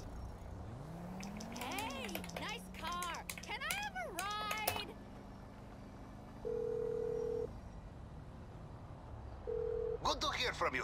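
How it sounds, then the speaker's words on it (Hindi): A phone call is dialed in GTA Online: someone talks briefly at the start, then steady electronic ring tones sound in two long beeps separated by silence, followed by the start of a reply. "शायद ये पेवल को फ़ोन करना होगा मुझे"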